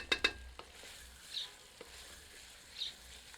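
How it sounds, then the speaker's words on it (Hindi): Mutton and masala fried in a pan for a Pahadi mountain-style curry, a ladle scraping through now and then; a couple of sharp clatters at the start, then a faint steady sizzle with occasional soft stirring knocks. "अब करछी लगातार न चलाकर थोड़े थोड़े अंतराल पर चलाते रहते हैं ताकि सारी सामग्री समान रूप से तो भुने ही"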